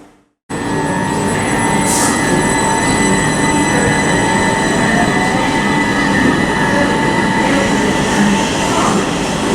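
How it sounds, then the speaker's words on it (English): A Southern Class 377 electric train, unit 377107, pulls out of Southampton Central on the 12:29 service to Brighton. Its loud, near, steady rolling rumble and hum fill the whole clip after a brief quiet start, with no talking. "departing now is 377107 with the 1229 Southern service to Brighton"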